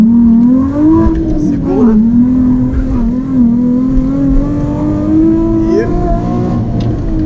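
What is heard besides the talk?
Nissan 350Z driving a fast lap on a kart track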